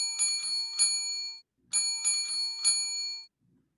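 A bicycle bell rings in two quick bursts of bright metallic dings, each burst holding three strikes with a clear gap between, close and alone.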